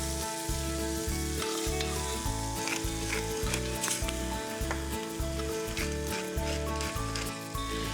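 Beef chunks frying in a hot pan and being stirred through onions, spices and chilli, a steady loud sizzle broken by rhythmic scraping and stirring strokes throughout, with no talk.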